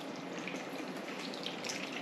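Two cups of bottled water pour steadily into a sugary pork mixture for a Christmas dish, a continuous near splashing trickle with no talk over it.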